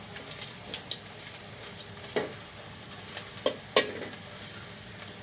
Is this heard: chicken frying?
yes